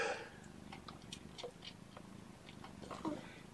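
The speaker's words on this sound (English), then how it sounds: "Those are some very well-fed kittens" Well-fed kittens purr in a soft, continuous rumble close by, with small high squeaks and mews scattered over it.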